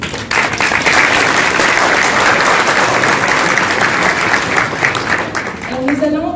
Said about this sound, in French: Ça vaut le coup qu'on applaudit quand même.